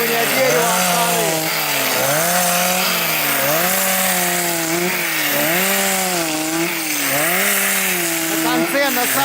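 A chainsaw fitted with a planer attachment strips bark from a pine log, its engine whining loud and close with repeated rising and falling revs as the cutter bites and eases off.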